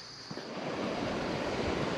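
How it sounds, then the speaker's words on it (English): Water flows through Spillway Gorge in West Hurley, New York, a soft, steady rushing wash heard faintly from a distance. "We've got a good water flow going on, so we'll take pictures."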